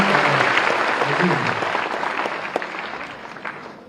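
Audience applause fills a school auditorium during an inauguration ceremony at a military school, a dense, loud crowd clapping that slowly tapers off over a few seconds.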